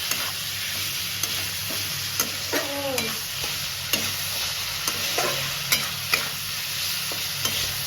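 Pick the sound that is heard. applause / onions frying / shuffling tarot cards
onions frying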